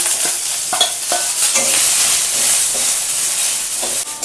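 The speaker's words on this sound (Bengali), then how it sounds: "রসুনটা লাল করে ভেজে নিয়ে এর মধ্যে দিয়ে দিলাম পেঁয়াজটা" Onions sizzle and hiss in hot oil while a spatula stirs and scrapes repeatedly, with a loud, steady frying crackle up close.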